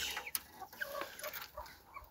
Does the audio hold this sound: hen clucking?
yes